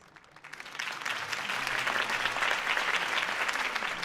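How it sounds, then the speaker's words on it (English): A crowd in the Batman Telltale video game claps after a mayoral campaign speech, a dense roar of applause that swells in from quiet and holds steady and full to the end. "could have heard that applause"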